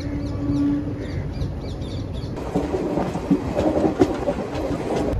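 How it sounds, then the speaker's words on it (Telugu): An ICF-coach express train cruises at speed, a steady rolling rumble with repeated clickety-clack rail joints heard from inside the carriage, rising somewhat louder partway through, with no talk. "మన ట్రైన్ క్రూజింగ్"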